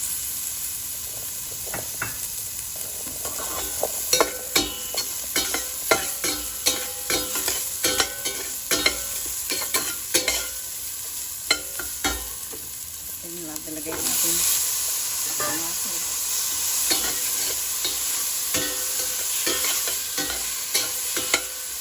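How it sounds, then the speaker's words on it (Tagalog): Ginger frying in hot cooking oil for sautéed mussels, a steady sizzle punctuated by many sharp clicks and scrapes of stirring, growing louder and hissier partway through. "Antayin lang natin mainit yung ating mantika. Tsaka mag-brown yung ating luya. Pwede natin lagay yung ating luya."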